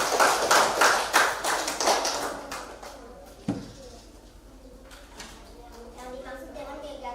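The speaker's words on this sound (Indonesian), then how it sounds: "tepuk tangan dulu untuk kelompok 1" Classroom applause for a student group, a burst of clapping that fades out over a few seconds, followed by a single thud and quiet talking.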